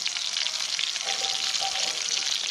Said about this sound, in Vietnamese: Chiên mẻ thứ hai nè.